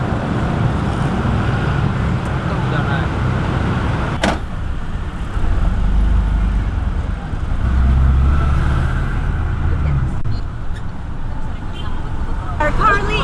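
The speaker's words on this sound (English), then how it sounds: "We're currently in Bajai! Bajai is actually Indonesian tuk-tuk" Riding in a bajaj, an Indonesian tuk-tuk, through Jakarta traffic: a continuous close engine drone and road rumble with surrounding traffic noise, a sharp knock midway, and people talking over it at times.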